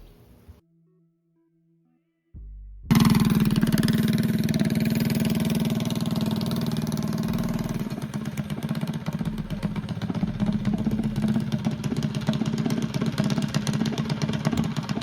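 A GTS mini bike engine starts after a brief quiet moment, then runs loud and steady with a buzzing, rattly drone that roughens slightly near the end.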